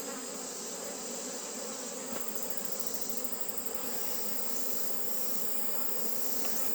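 A dense, steady buzz of many honeybees humming together inside a hive at close range, continuous and unbroken throughout with no voices.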